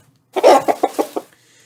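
Chickens kept at a grandmother's farmhouse cluck in a quick burst of about five short, sharp calls, fairly close and clear against silence.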